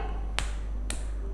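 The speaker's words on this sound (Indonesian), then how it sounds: "tepuk tangan 2 kali" During a Sunday school game, children clap their hands twice. Two sharp, close claps land about half a second apart over a steady low hum.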